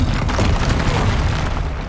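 Incendio fire spell cast in Hogwarts Legacy on PS5: a brief, loud, rumbling whoosh of flame, dense and sustained with no pause.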